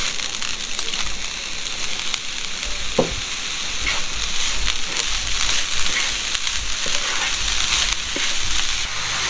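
A grated coconut and sugar mixture sizzles and fries steadily in a pan for laddu, a dense continuous crackle with occasional soft stirring scrapes and no talking.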